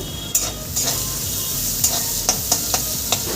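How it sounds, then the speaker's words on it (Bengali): Carrot pieces fry in oil with a little salt and turmeric, a dense close sizzle punctuated by several sharp stirring clicks and scrapes at irregular intervals. "গাজরটা আমি সুন্দর করে দেখো ভেজে নিচ্ছি"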